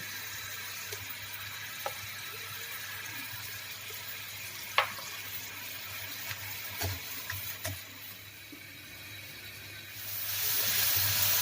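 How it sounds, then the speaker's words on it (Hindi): Masala sizzles in ghee as tomato paste is added for Lahori-style chickpea curry: a steady low hiss with scattered small clicks and pops, swelling into a louder sizzle near the end. "जब मसाला घी छोड़ देगा इसके साथ ही थोड़ा सा हम ये टमाटो पेस्ट भी डालेंगे।"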